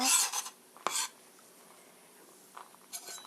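Chives being minced with a knife on a board: a few short, crisp scraping chops, close and fairly loud, separated by quiet gaps.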